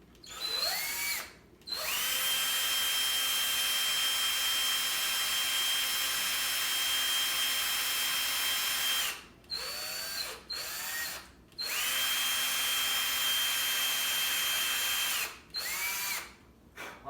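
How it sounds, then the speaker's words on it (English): An electric drill bores a pilot hole in two long whining runs, with short spin-ups and stops in between, loud and close, rising and settling in pitch as the trigger is squeezed and released. "So I'm going to actually drill this one in place because I don't see my hole up there."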